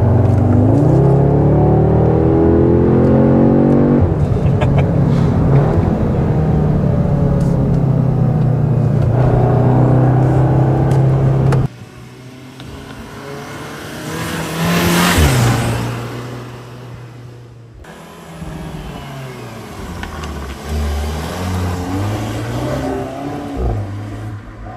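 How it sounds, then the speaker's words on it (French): Close, loud engine and exhaust roar from an Audi S3 facelift's combustion engine, revving hard for several seconds, then dropping to a quieter drone with another swell of acceleration and shifting tones. "t'as quand même un vrai moteur, une vraie puissance, un vrai moteur thermique et puis surtout une vraie sortie d'échappement"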